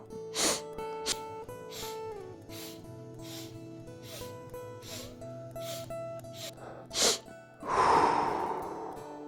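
Strelnikova breathing exercise: a few sharp, audible breaths in and out, snort-like nasal inhales over soft background music, with a longer exhale toward the end.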